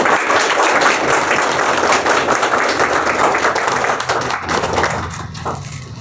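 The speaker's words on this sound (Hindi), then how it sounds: "जोरदार तालियां बजाएंगे" Applause from an audience at an honouring ceremony for a block welfare officer in Khunti, a dense steady patter of many hands clapping that carries on for several seconds and eases off slightly toward the end.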